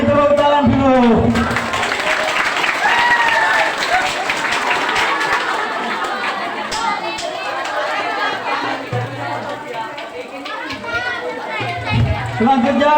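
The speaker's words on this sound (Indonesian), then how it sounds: "Beri tepuk tangan dulu." An audience at an Islamic boarding school's end-of-year speech contest applauds: steady, loud clapping from a crowd that lasts throughout, mixed with chatter, children's voices and talk.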